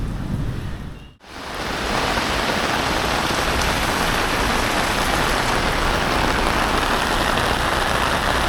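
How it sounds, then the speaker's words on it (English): Heavy rain pours down without a break during flooding in China, a dense, steady roar that fills the whole scene after a brief dip near the start. "It's thundering and lightning and raining as we speak."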